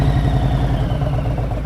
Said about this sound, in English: I'm pushing the brake down, opening the clutch.